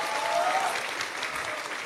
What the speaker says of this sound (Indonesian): Kasih tepuk tangan dong pada yang tanya-tanya nih